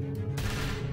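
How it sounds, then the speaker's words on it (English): Gunfire in the video game The Walking Dead: A New Frontier, a sudden loud close burst of shots that cuts in briefly and keeps rumbling, with no voices. "I hear gunfire"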